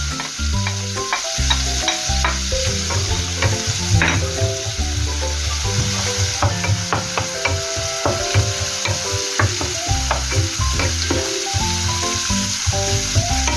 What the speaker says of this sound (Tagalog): Kapag po ganyan na, pwede na po natin isunod ang ating sibuyas.